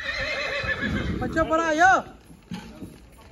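A horse whinnies loudly and close by on a farm, a rising and falling neigh over hoof clatter, with people talking before and after it.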